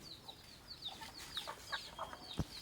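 Chickens and chicks cluck and peep softly on a farm around midday feeding with bran, a scatter of short calls over quiet background with one low thump near the end.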